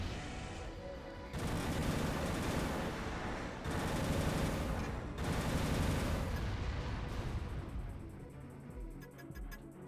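Enemy gunfire in the mech combat game Armored Core: dense, sustained bursts of rapid machine-gun fire and volleys roll on loudly for several seconds with brief gaps, then thin out toward the end.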